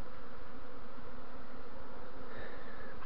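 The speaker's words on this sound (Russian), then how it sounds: "Пчелы роевые." Swarming honeybees with young queens buzzing at a hollow linden tree, a dense continuous drone that stays loud and steady throughout, with no voices.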